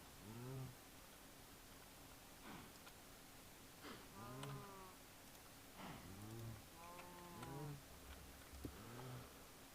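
Several moos from Minecraft cows in the Stoneblock 2 modpack repeat at irregular intervals over about ten seconds, faint and low in level, with a steady hiss in the background.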